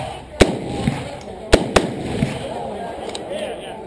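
A machine gun fired in semi-automatic mode at an outdoor shoot, with a few sharp, distinct single shots spaced irregularly over crowd background noise and murmuring voices.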